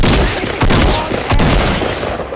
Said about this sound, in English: you shoot the shotgun